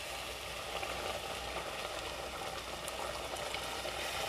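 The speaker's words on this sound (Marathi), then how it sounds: "आता आपण त्यामध्ये गरम पाणी घालूया." Mutton frying in green masala sizzles and bubbles as hot water is added, a steady, even hiss with a soft boiling texture throughout, fairly quiet and with no voices.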